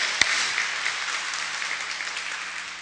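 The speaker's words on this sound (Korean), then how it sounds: "하나님께 우리 영광의 박수 올려드립시다." A church congregation claps in praise during a Sunday service, a broad, sustained wash of many hands with one sharp clap near the start, steady and fairly loud before slowly thinning.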